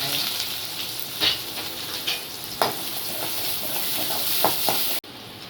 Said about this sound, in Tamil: வெங்காயம் போட்டுக்கலாம், சின்ன வெங்காயம்.